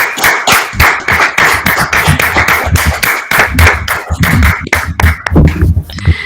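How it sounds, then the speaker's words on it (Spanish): Audience applause after a videoconference talk: loud, dense clapping that carries on steadily and thins slightly toward the end, with a few faint voices mixed in. "den ese aplauso merecido a nuestra invitada"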